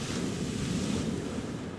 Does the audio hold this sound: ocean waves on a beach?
yes